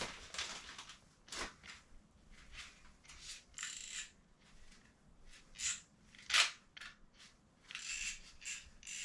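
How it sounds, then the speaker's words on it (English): Soundproofing insulation being cut and torn during a bathroom renovation, heard as a string of close, crisp crunching and snipping bursts with a sharper snap near the middle, fairly quiet overall. "I think I'm going to have to cut this down because I'm starting to break it"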